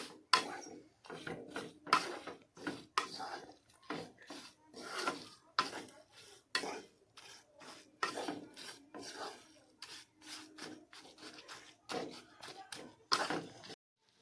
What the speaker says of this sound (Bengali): এইভাবে আমি ক্রমাগত নাড়াচাড়া করবো